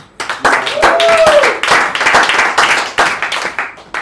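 An audience at a comedy show bursts into clapping, loud and close, with a few sharp individual claps standing out, while voices and laughter carry over the top and the clapping fades toward the end.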